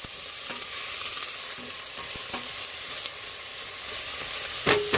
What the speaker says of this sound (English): I'm going to heat that up and start the onions cooking. I got the onions cooking.